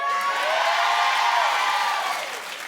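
A television talk-show studio audience claps and cheers in one loud, sustained burst that fades out near the end.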